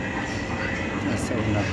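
Oncoming train passing close by, heard from aboard a moving train: a brief loud rushing roar with rumble, under steady rail noise and a voice talking.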